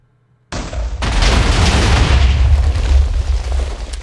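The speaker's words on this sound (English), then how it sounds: "they're also impervious to explosions, as I will now demonstrate." In Minecraft, after brief silence, a loud explosion booms suddenly and is followed by a continuous roar of rumbling blasts that persists to the end.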